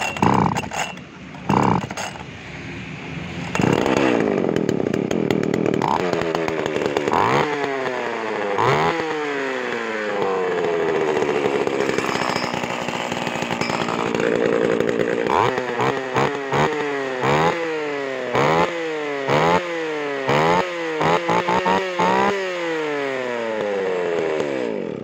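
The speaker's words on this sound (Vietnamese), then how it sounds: "bây giờ em sẽ nổ cái con máy Ryobi này cho mọi người cùng nghe nha" A Ryobi chainsaw engine is pull-started with a few sputtering tugs, then catches and runs. It revs up and down repeatedly, close and loud, with sharp throttle blips toward the end.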